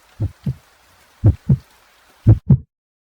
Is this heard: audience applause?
no